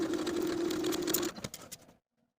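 A sewing machine stitches darts on a romper, a short fast whirring run close by that slows into a few separate stitches before stopping.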